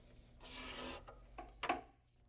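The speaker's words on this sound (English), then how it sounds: "A hand scraper is perfect for getting into places that are hard to reach." A hand scraper works across the surface of a mahogany and maple bookcase in a few short, soft scraping strokes, heard up close in an otherwise quiet room.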